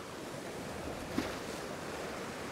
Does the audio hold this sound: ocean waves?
yes